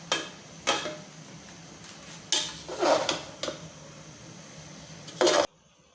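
A utensil clacks and scrapes against a pan while Nigerian-style stir-fry spaghetti with soy sauce is mixed, making sharp irregular knocks spaced across several seconds at close range.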